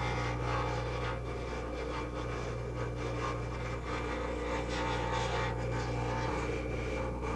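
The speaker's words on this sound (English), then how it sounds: "The outer surface does have to be prepared for polishing as a final stage using the reddish-brown rubber wheel." A reddish-brown rubber wheel polishes the outer surface of a Valplast flexible denture in a dental lab, giving a steady, continuous grinding whir over a low motor hum with no pauses and no talking.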